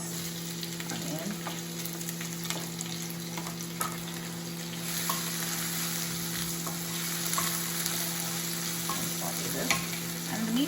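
Onion frying with sputtered cumin seeds in hot oil, a dense, steady sizzle throughout with occasional light stirring clicks and a constant hum in the background.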